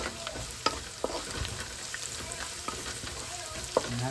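Pork igado frying in a pan, stirred now and then: a steady low sizzle with scattered soft scrapes and clacks of the utensil against the pan, no voices.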